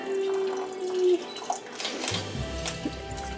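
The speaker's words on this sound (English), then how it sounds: "Here comes the water." Water runs from a kitchen tap in a home, a steady splashing stream with a few clinks and small bumps around it and a faint voice in the background.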